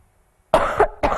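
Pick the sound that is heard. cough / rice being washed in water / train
cough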